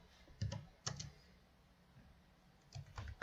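Typing on a computer keyboard, a few quiet clusters of key clicks separated by short pauses, faint and close with no talk.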